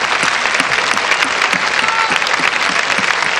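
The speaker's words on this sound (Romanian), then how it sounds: "Aplauze pentru Adrian Daminescu" Steady, dense applause from a recital audience for pianist-performer Adrian Daminescu, loud and continuous throughout with no voices over it.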